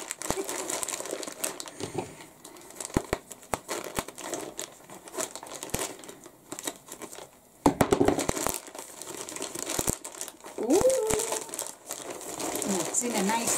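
Paper and plastic packaging crinkles and rustles up close as left-handed scissors cut it, with sharp snips and tearing sounds scattered throughout and occasional brief vocal sounds.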